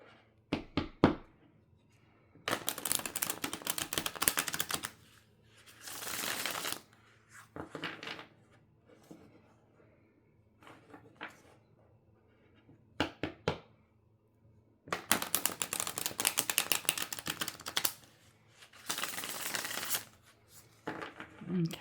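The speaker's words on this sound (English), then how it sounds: "today they're asking me to shuffle 2 more times" Tarot cards are shuffled in several loud, close riffling bursts of fast flapping clicks, separated by quiet gaps with scattered taps and knocks of the deck being handled.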